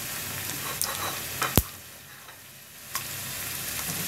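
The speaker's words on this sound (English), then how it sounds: "Now heat oil or ghee in a pan and I'm going to start adding all the spices." Whole spices such as cinnamon, cardamom, clove, cashews, cumin and anise seed fry in hot oil or ghee in a pan, a close continuous sizzle and crackle with a few sharp pops and utensil clicks.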